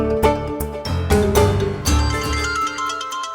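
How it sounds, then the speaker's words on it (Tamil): A mobile phone rings with a bright, repeating electronic melody of several quick notes. It plays loud and close for a few seconds in a domestic scene from a Tamil TV serial, with no speech. "அப்பா போன் அடிக்குது பாரு"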